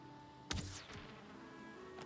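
Bees buzz around a beehive in a video game, a faint thin whine with a sharp sudden burst and sweeping tone partway through over a quiet hum.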